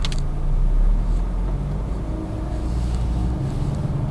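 A 2016 Suzuki Ciaz 1.2 sedan with a four-cylinder engine pulls ahead, its engine drone swelling briefly and then settling into a steady low hum with road and wind noise in the cabin.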